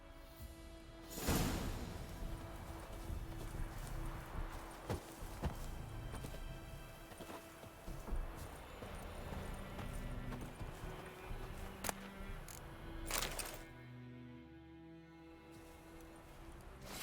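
Horse hooves clip-clop quietly in The Witcher III: Wild Hunt, a soft, steady patter of steps under ambient game sound with a couple of brief swooshes.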